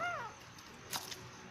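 A cat lets out a short, rising-then-falling meow close by, followed by a brief faint rustle.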